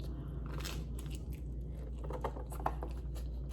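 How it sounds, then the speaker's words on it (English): Chewing on a Maryland jumbo pizza slice, close and intimate, with soft wet bites and crunchy crackles scattered over a few seconds, alone with no talk. "I'm getting tired of chewing."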